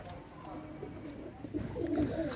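A pair of young Sakiridi pigeons and a pair of young Oman Teddy pigeons coo softly at close range, with a low burbling call swelling near the end.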